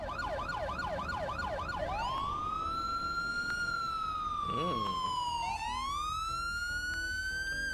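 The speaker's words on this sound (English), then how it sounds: "as you can hear, the sirens sound completely different right now" Electronic police and ambulance sirens from Grand Theft Auto V, first a fast yelping wail, then long rising and falling tones, loud and close, with another siren overlapping briefly.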